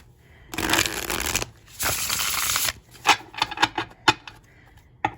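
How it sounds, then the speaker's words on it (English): Tarot cards are riffled in two loud, close bursts, followed by a series of sharp taps and slaps as the deck is squared and handled. "give this guy a shuffle"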